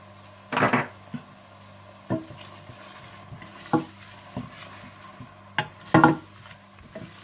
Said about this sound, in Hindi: हल्दी पाउडर, जीरा पाउडर, धनिया पाउडर और नमक डालकर अच्छी तरह से भून लें।